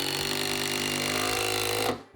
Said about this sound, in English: we're gonna drill this in, and I'm not gonna pre-drill anything. We're just gonna slam this screw in